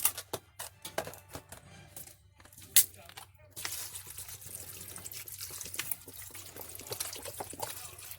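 Bottled water is poured into a cooking pot while preparing tamales, a bright splashing stream following a few sharp knocks and clinks, fairly close.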